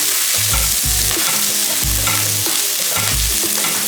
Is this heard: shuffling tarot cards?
no